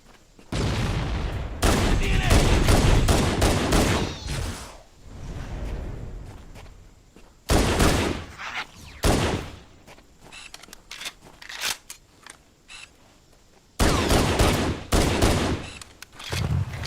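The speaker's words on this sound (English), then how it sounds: "There's the infamous automatic fire from Jackal plasma pistols." Bursts of rapid automatic fire from Jackal plasma pistols in Halo Anniversary crackle in three loud clusters, with quieter gaps between volleys.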